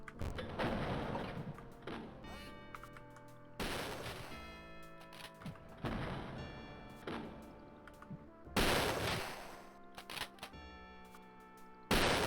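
Rapid bursts of video game gunfire from the Wolfenstein 3D Coffee Break mod, with repeated loud volleys separated by brief pauses and no one talking.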